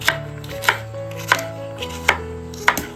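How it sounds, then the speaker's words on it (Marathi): A knife slices fresh home-grown okra into rounds on a board, five crisp evenly spaced chops close by, with a faint sustained tone underneath and no talking. "अशा प्रकारे गोल मध्ये कापून घेतोय"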